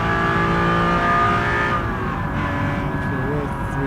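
A Ferrari engine driving in the BeamNG video game, a steady loud sustained drone with shifting tonal whine, continuous throughout with a voice faintly mixed underneath.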